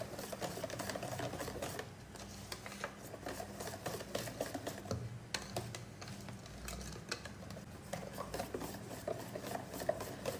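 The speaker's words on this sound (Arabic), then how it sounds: "وهنبتدي ان احنا نقلب الخليط ده كله مع بعض" A spoon stirs a thick dessert mixture containing fine desiccated coconut, giving a continuous close scraping and rubbing with quick rhythmic strokes and brief pauses, with no talking.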